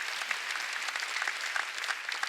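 A church congregation claps at a Sunday worship service, a steady patter of many hands with some sharper individual claps standing out, fairly close and even throughout.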